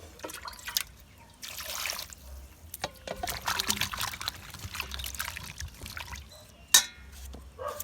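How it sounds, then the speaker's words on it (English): Water is poured into a cooking pot for a red peas, cow foot and chicken foot soup, a soft uneven trickle and splash that comes and goes in bursts, fairly quiet and without talk. "Add more water in"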